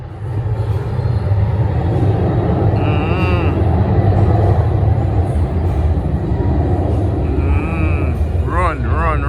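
An airplane's engines roar loudly and steadily as it moves along the runway in Montego Bay, Jamaica, with voices talking over the constant noise.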